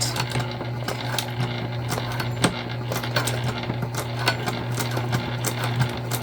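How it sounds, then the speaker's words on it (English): A sewing machine top stitches one layer of waterproof canvas and vinyl an eighth of an inch from the edge, running in a fast, even mechanical patter with small ticks, close and steady throughout. "we're top stitching 1/8 of an inch"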